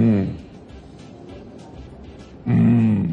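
A voice imitates a lion's roar on a television morning show, a short throaty growl at the start and another loud, drawn-out roar near the end, with a quiet murmur between.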